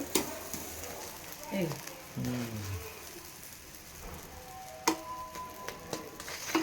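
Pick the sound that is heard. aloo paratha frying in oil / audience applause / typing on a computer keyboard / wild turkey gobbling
aloo paratha frying in oil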